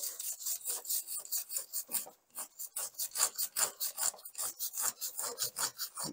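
A brush scrubs cleaner onto the drive chain of a Lifan KPR 200 motorcycle in quick, rhythmic rasping strokes, close and steady with a brief pause partway, and no talk.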